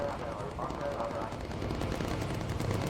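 Turret machine guns on a bomber fire in continuous rapid bursts in the video game Bomber Crew, loud and dense under engine drone, with a voice speaking over it.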